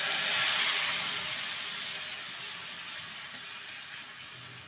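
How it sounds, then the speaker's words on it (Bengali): Bowl-rinsing water pours into a hot cooking pan with spiced vegetables, a loud rushing hiss that starts strong and slowly fades to a softer steady sizzle. "বাটি ধোয়া জল দেব।"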